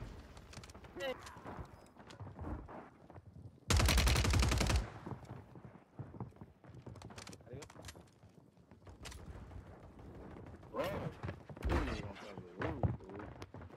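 A shotgun fires in the Warzone 3 video game, one loud booming blast standing out from busy game sounds and a voice talking.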